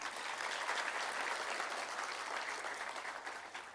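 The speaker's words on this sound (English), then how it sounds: "let's give them a round of applause" A national launch event audience gives the media a round of applause: continuous, even clapping from many people in a large room, moderately distant and steady with no speech over it.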